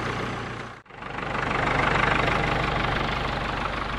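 A Caterpillar D2 crawler dozer's engine idles in neutral with a steady, loud, close rumble and rapid regular firing pulses; a brief dropout near the start, then the idle carries on evenly.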